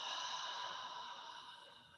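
A slow, breathy exhale with an audible voiced sigh during a guided breathing exercise, soft and close, fading gradually over about two seconds.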